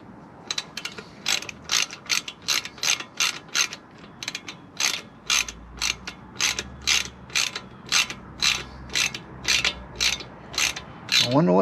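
A hand ratchet snugs down the brake bolts on a Lectric 3.0 e-bike during a brake recall fix, a steady series of close clicking strokes repeating about once a second, with no talking.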